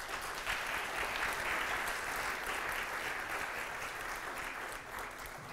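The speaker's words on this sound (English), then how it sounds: "I'm going to give him a round of applause." A live audience gives a sustained round of applause, dense and even clapping filling the room steadily throughout before easing slightly near the end.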